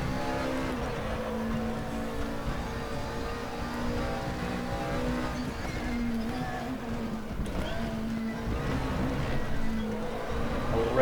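A McLaren 12C GT3 race car in the RaceRoom racing game on the Nordschleife at a VLN event, its engine droning loud and steady with continuous rising and falling pitch, no voices over it.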